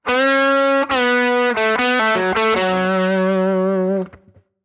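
A distorted electric guitar plays a sustained lead line, holding long notes then stepping through several shorter ones before cutting off, loud and alone.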